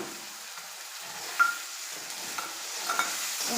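A spoon works mustard paste into a hilsa fish curry in a pan, giving soft, steady stirring scrapes over a faint, quiet sizzle, with a few slightly sharper clinks and no voices.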